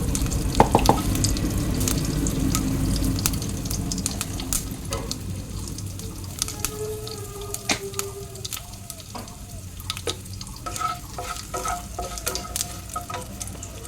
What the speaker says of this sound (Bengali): শুকনো লঙ্কা দিয়ে দিলাম, তেজপাতা দিয়ে দিলাম, আর এখানে জিরে আর মৌরি ফোড়নে দিয়ে দিলাম।